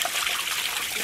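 Water is poured in a home kitchen while changing the water on boiled eggs, a steady splashing trickle heard close and continuous.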